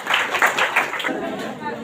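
A church congregation claps loudly in thanks to God, a dense burst of fast rhythmic applause filling the room for a moment.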